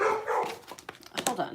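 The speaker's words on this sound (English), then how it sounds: "oh, sorry about the dogs." Dogs bark indoors in short, sharp yips and woofs, several quick barks clustered near the end, mixed with a person's voice speaking briefly.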